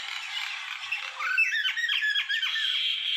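Close and loud, a pet mynah bird gives a string of harsh, rasping squawks, several clipped calls in quick succession over faint background noise, with no talking.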